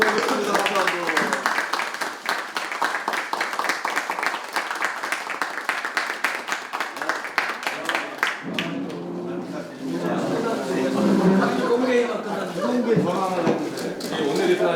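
A room of party members at a Democratic Party floor strategy meeting breaks into brisk, dense applause for several seconds, which then fades out as people start talking.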